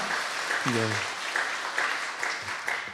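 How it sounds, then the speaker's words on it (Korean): Korean church congregation clapping during a Sunday morning worship service, a steady patter of applause with a voice speaking briefly over it and faint tonal sounds in the background. "감사와 찬양으로 박수로 한번 영광 올려드리겠습니다"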